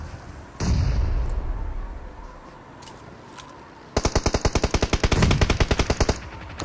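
In the BGMI battle royale game, a heavy explosive thump from a grenade is followed by a rapid, evenly spaced burst of automatic gunfire, loud and close.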